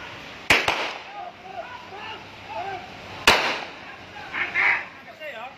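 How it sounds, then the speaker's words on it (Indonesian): Gunfire during a police chase of a car-robbery suspect at a highway toll exit in Probolinggo: two quick sharp bangs, then a third a few seconds later, over background noise and faint voices. "Suara tembakan terdengar berulang kali."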